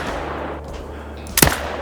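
A single sharp rifle gunshot cracks out during a hunt in theHunter: Call of the Wild, loud and abrupt against a low steady ambient hum, with no talking.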